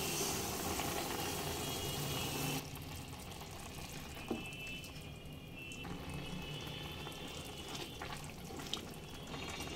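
Hot liquid milk, about two cups, poured into a pan of cooking carrot halwa, giving a steady watery rush and sizzle that drops to a quieter simmering bubble partway through, close and continuous with no talk.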